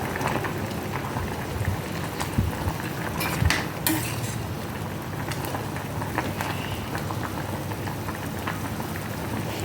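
A pot of vegetable curry bubbles at a steady boil, a constant close crackling texture with a few faint clinks of utensils against the pot and no talk.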